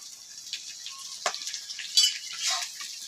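Green chilies frying in oil for pickle give a faint, crackly sizzle with scattered pops and a brief stir, close and quiet, with no voices.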